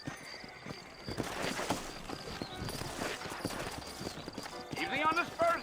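Steady clip-clop of horse hooves at a walking pace in the video game Red Dead Redemption, with a voice talking over them and a brief whinny near the end.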